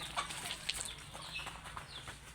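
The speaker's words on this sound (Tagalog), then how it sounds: "Yan ang aming mga chickens." Chickens cluck softly at a farmyard, with scattered short clucks and calls over a steady low rustle.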